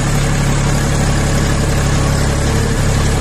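A Jinma 24 hp mini tractor diesel engine idles at about 1500 rpm, a loud, close, steady low rumble with constant vibration and no pauses.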